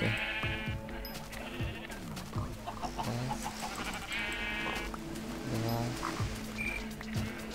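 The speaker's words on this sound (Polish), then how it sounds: "Jest owca." Sheep bleat repeatedly in the Minecraft Tekkit video game, with clucking fowl mixed in over a busy background of game sounds.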